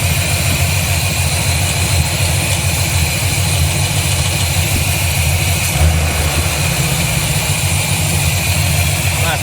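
A small-block Chevy 350 V8 swapped into a 1987 Dodge Dakota idles steadily and loudly up close, a deep rumbling drone with constant vibration and no speech over it.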